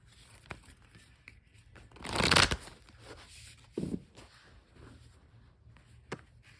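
A tarot card deck is shuffled by hand, a brief riffling rustle in the middle, with a few soft card taps and handling sounds before and after in a quiet room.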